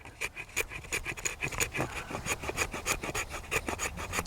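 Back edge of a knife scraping shavings from a piece of wet fatwood, a rapid series of close, rough rasping strokes in a steady rhythm, no talking.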